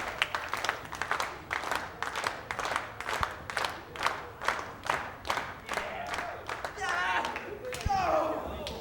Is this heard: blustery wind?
no